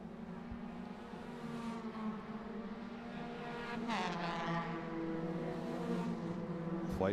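Race cars in an ICCR circuit race drone past on the track, engines rising and falling in overlapping pitch sweeps, loud and steady with a commentator talking underneath.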